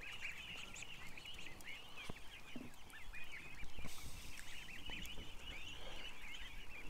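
A flock of ducks in a pen quack and chatter continuously at moderate distance, layered overlapping calls with a few louder honks and scattered knocks, and no one talks.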